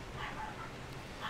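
A dog gives faint, muffled whimpers and soft yips, two or three short bursts over a steady hiss of background noise, distant and quiet, during Resident Evil 7 gameplay.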